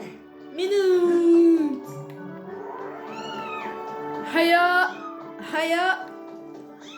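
A cat in The Legend of Zelda: Skyward Sword meows several times, drawn-out and tonal, with a child's short word spoken briefly in between.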